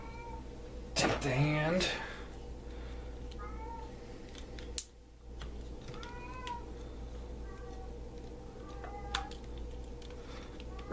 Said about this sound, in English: That cat's getting really loud.